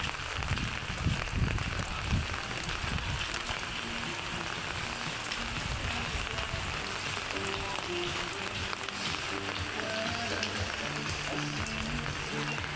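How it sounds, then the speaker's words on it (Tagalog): Rain falling outdoors makes a steady, dense patter across the whole stretch, with a low rumble in the first seconds and faint tonal sounds later, and nobody speaks. "maulan na naman."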